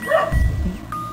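A dog barks and yips in the background during horror game play of Mr Hopp's Playhouse, a few quick sharp calls that sit fairly loud against a low room rumble.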